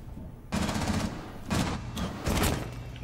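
Gunfire in Rainbow Six Siege, with three loud, close bursts of automatic shots separated by brief pauses over game ambience.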